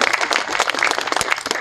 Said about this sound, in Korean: 우리 거제시에 오신 분들도 큰 박수 한번 부탁드리겠습니다.